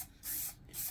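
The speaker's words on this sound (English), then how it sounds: "he just sprays, light sprays" Light dust coats of spray paint hiss from a can held about a foot from a masking stencil, two short even bursts separated by a brief pause, close and moderately quiet.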